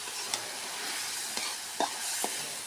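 Small fish puri frying in oil in a pan, giving a dense, steady sizzle with a few sharp pops and crackles scattered through it, close and fairly loud.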